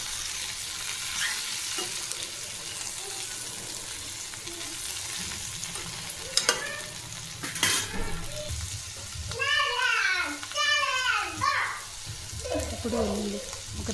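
Bitter gourd sizzles and fries in a pan with turmeric on medium flame, a steady crackling broken by scraping stir strokes and a few clanks, with someone speaking softly in the background.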